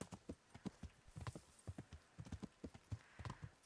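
Steady clip-clop of horse hooves walking at an even pace in the video game Kingdom Come: Deliverance, quiet and close, with no voices.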